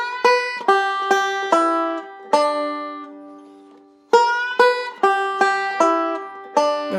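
Banjo ending played as a forward roll rather than a pinch: clusters of bright plucked notes in two phrases separated by a ringing, decaying pause, played alone with no talk.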